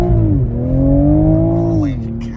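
A car accelerating hard through several gears while losing traction, its engine note rising steadily and dropping at a shift, loud and close throughout.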